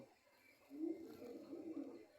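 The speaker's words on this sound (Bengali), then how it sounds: "ঝুঁটি শালিক, এটা এটা ঝুঁটি শালিক।" A crested myna nearby gives a short low cooing call that rises after a quiet start and carries on in throaty bursts.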